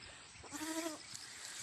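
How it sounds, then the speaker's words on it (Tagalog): A female goat bleats once on a rural hillside during a rescue: a single clear, wavering bleat of about half a second over faint outdoor background noise. "Bai na kambing pala to."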